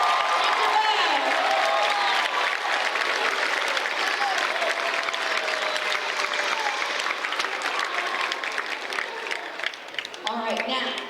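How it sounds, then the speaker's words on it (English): At a fifth-grade winter school concert, the audience gives a long round of applause lasting about ten seconds, many hands clapping in a steady roar with scattered cheers, fading a little toward the end. "one more round of applause for our fifth grade woman"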